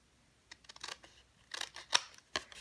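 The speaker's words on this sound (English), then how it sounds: "Once I have it scored, I'm going to cut away my corners." Scissors snip cardstock diagonally at the corners for a flip album craft, several short crisp close cuts at uneven intervals, faint and alone.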